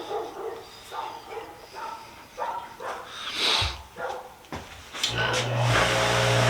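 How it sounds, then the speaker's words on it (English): A neighbour's dog barks several times at a moderate distance, mixed with other background noise and no clear speech. "my neighbor's dog's gonna bark"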